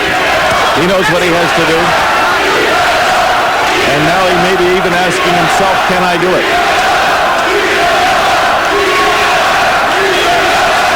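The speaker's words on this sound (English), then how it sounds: "Listen to the cheer and the chant in the background for Kyvelos." A fight crowd cheering and chanting for the fighter Kyvelos in a roped ring: a loud, continuous roar of voices running the whole time under a commentator's steady talk.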